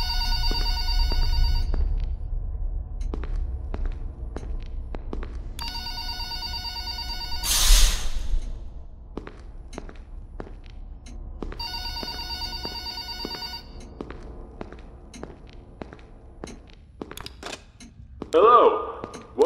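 Old-style telephone bell rings in repeated bursts inside the horror game FNAF Forgotten Memories, set in a dark pizzeria, with clicks and creaks between rings and a sudden sharp noise midway.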